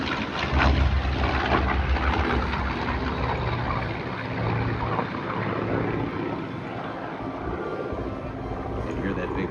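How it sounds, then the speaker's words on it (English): An F4U Corsair's 18-cylinder Pratt & Whitney radial piston engine drones loudly and continuously at an airshow, a deep rumbling roar that swells slightly as it passes overhead, with voices talking underneath. "The 18-cylinder Pratt, which just sounds heavy."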